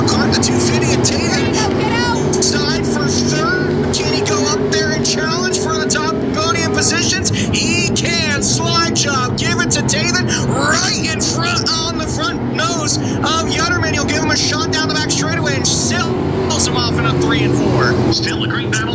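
Stock cars in a feature race roar down the front straightaway, a dense, continuous engine drone with layered revving, loud throughout while an announcer talks over it.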